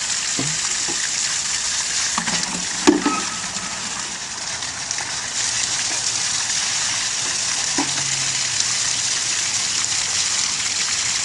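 Free-running fresh water pours steadily into a container being filled for growing shiitake mushrooms, a continuous bright splashing rush with a few faint knocks and shifts of the vessel.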